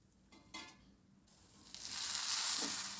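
Eggs sizzle in a pan of spring onion egg curry, a soft hiss that swells into a steady frying crackle, close and alone.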